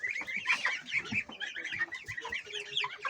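Month-old chicks in a backyard garden flock cluck and cheep in quick, overlapping bursts, close by and moderately quiet, with no talking.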